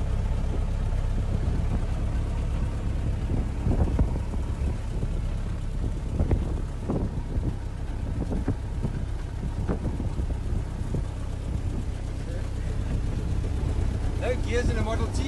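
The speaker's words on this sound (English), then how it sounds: "That's what it feels like to go in a Model T." A 1915 Ford Model T on the move gives a steady low rumble mixed with wind buffeting and occasional knocks, while people talk over the ride noise.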